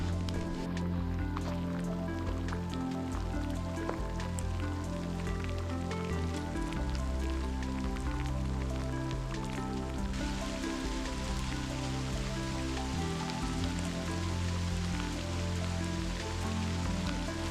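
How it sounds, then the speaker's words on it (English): Rain falling steadily outdoors in greenery along a long-distance trail race course, a continuous patter and dripping that swells louder partway through, with no talk. "Rain's coming down."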